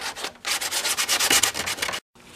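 Sanding of a carbon fiber motorcycle fairing on a Ninja, a steady, close abrasive rubbing in repeated strokes that stops briefly near the end, with no talking.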